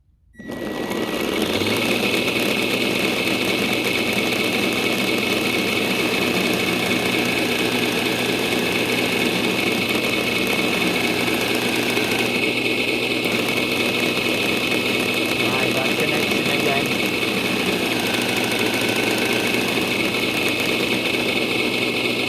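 Electric traction motors of a 5 inch gauge Class 31 diesel locomotive model spinning up and then running at a steady, loud whine and hum, with a sustained high tone throughout.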